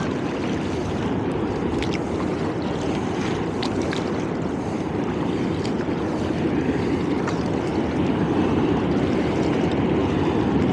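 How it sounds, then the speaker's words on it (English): Choppy water slapping and churning around a kayak on the East River in New York, steady and close for the whole stretch, mixed with wind buffeting the microphone and no talking. "It is definitely choppy out here,"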